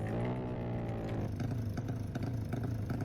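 Engine of a motorcycle in the Roblox video game, revving with a steady droning tone that drops in pitch partway through, giving way to rattling clatter; moderately loud throughout with no talk over it.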